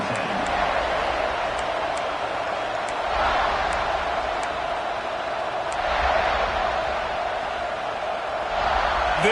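A dense roar from a large football stadium crowd at a college game fills the whole stretch, steady and loud with swelling cheers and scattered whistles.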